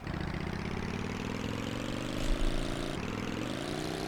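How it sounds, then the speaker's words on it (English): A vehicle engine in Tomb Raider III Gold: The Lost Artifact hums steadily, then its pitch climbs smoothly as it revs, a continuous mid-range drone with a small bump partway through. "And then rev the engine."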